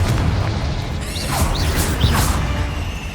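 In Hogwarts Legacy, Confringo spell blasts go off as a few booming bursts with swooshing sweeps over a continuous rumbling game background.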